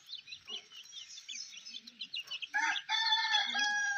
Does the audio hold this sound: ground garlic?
no